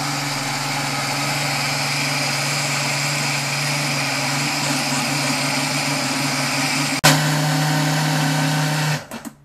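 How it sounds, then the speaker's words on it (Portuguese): A blender blending rice runs at a steady high whir for several seconds, then briefly surges and winds down to a stop, close and loud. "o arroz já está no liquidificador"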